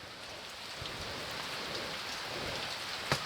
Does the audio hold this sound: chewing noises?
no